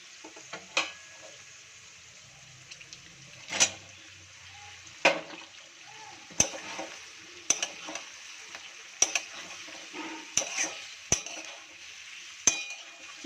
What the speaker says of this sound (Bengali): এবার দিয়ে দিলাম কাঁচা লঙ্কা দেওয়ার পরে আর একটু নাড়িয়ে নেব। নাড়িয়েই দিয়ে দেবো আমি হচ্ছে চিকেনটা।